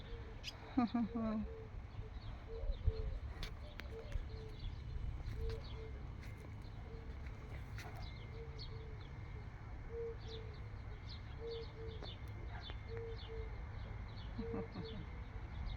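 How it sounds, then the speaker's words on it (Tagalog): Many birds in a backyard vegetable garden with sunflowers give repeated soft coos and scattered high chirps over steady outdoor ambience, at a moderate distance. "Maraming ibon."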